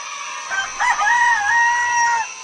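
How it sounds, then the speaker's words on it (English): One rooster crows once at daybreak. The call is loud and near, with a short broken start and then a long sustained, wavering note. Only faint background hiss is heard around it, with no voices. "The rooster sings at daybreak."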